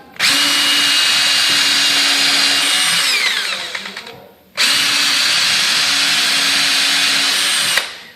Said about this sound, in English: I'm going to go ahead and pilot the hole